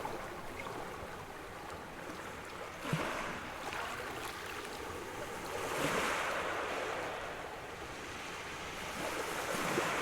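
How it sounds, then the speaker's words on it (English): Gentle waves wash and splash over a pebbly shore as ambient sound in a tabletop fantasy role-playing session, a steady soft surf with a few louder swells and light wind, no speech. "the splashes and gentle waves amongst pebbles. That's all the stuff you're hearing now."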